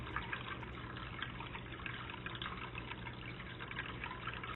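A freshwater stream at Shenks Ferry Wildflower Preserve trickles and flows steadily, a continuous close wash of small splashes with no voices.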